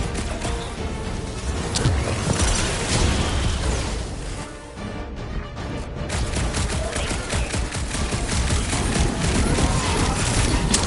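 Rapid blaster fire from a video game battle in Guardians of the Galaxy, dense overlapping shots and impacts running almost continuously, loud and busy with a brief lull midway.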